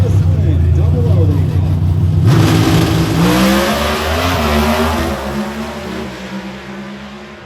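NHRA Pro Stock drag race cars making a first-round run at the Gatornationals on a hot, sticky track. Their engines give a loud, sustained roar that eases off toward the end, with an announcer talking over it.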